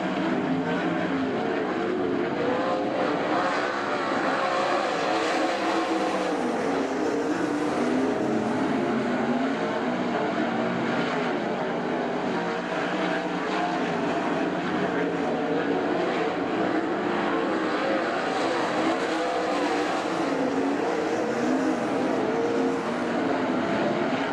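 Loud, continuous roar of several 410 sprint cars racing together in a heat race on the dirt track at Attica Raceway Park, a steady dense drone that swells and fades slightly as cars pass, with no talking.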